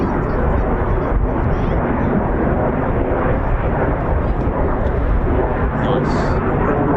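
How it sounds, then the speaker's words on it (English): Two F-15 fighter jets coming in to land at RAF Lakenheath, a loud, close and steady jet roar that fills the whole stretch without letting up. "Two F-15s entering from Point Charlie into downwind."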